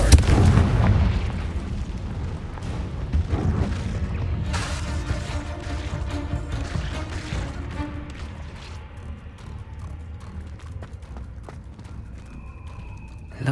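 A Confringo explosion spell goes off in a wizard video game: a heavy booming blast up front, then a long rumbling decay broken by scattered crackles and pops, loud and close.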